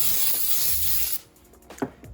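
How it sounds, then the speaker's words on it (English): A short, close burst of cooking spray hisses into a lined cake pan for about a second, followed by quiet handling noises and a light knock. "I'm going to spray just a little more inside."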